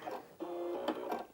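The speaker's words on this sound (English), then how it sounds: "Use the scissor cut to cut your threads" Brother Inventio NV1350 sewing machine running its automatic scissor cut to trim threads: a short mechanical whir with a steady motor tone, followed by a couple of quick clicks, close up and fairly quiet.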